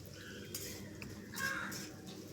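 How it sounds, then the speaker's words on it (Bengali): Chopped onions with whole cumin fry in hot oil in a pan while a utensil stirs and scrapes, giving soft sizzling under brief metallic clinks, fairly faint and without talk. "এরপর আমি পেঁয়াজটাকে একটু লাল করে ভেজে নেব।"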